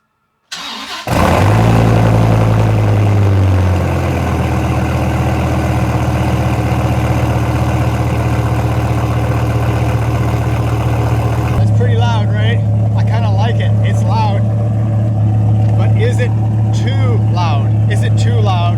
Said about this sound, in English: Full Belanger exhaust, long tube headers, high flow cats, all the way to the tips. It's pretty loud.